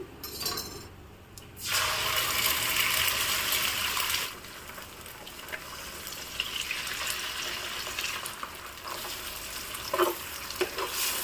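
Two eggs frying in a pan for chicken fried rice give a bright, steady sizzle that swells loudly for a couple of seconds, then settles into a softer crackle with a few faint clinks.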